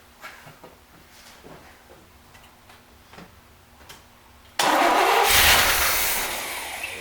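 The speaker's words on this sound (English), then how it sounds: "Just put a little bit down the carburetor and just see what she does when we spin it." A 1973 big block Corvette V8, parked since 1991 and primed with fuel down the carburetor, with ticking before it cranks and abruptly fires into a loud, close roaring idle that settles slightly.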